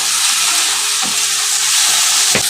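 Taro stalks seasoned with salt, ground cumin and turmeric sizzle loudly in a pan, a constant close hiss with a few dull stirring scrapes, and no voices.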